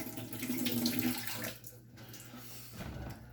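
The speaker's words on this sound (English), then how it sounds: "I'm going to take my potatoes, okay? I'm going to take the water out." Water pours and splashes steadily from a pot as boiled potatoes are drained for minestrone soup in a school hospitality kitchen, a continuous close rush with no talking.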